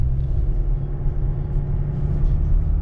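Steady low engine drone heard from inside a Chevrolet Colorado pickup with a small Duramax diesel as it climbs a hill, a rumbling diesel note holding constant throughout.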